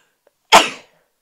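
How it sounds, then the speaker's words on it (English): A single close, sharp sneeze from someone with a cold, one quick burst that fades in about a third of a second, with silence before and after. "Quite a lot of sneezing this episode, I can see now."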